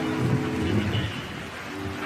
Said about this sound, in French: La pluie se met à tomber.